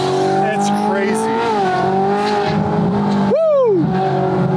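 Ferrari 458 GT3 widebody race car engine revving loudly and up close, its pitch climbing and falling through sustained revs, with a sharp high blip near the end; voices are heard over it.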